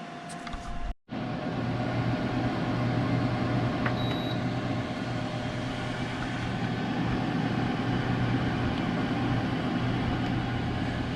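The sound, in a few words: Emeril Power Air Fryer 360 running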